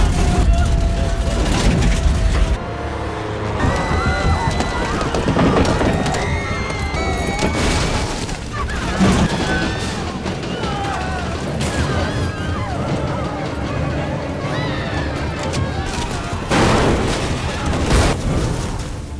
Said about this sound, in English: The aircraft begins to shake violently and rapidly descends.